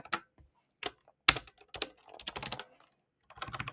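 Fingers tap on a computer keyboard in short, irregular bursts of keystrokes with brief pauses between, quiet and close, with no speech.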